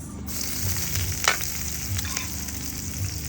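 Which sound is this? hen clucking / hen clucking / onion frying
onion frying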